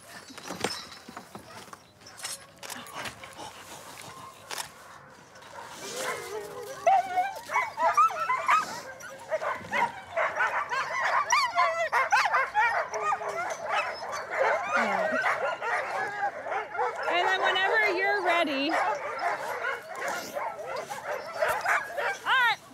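A team of eight sled dogs barks, yips and whines excitedly on an icy trail before a mushing run, a continuous chorus of many nearby dogs with people talking now and then.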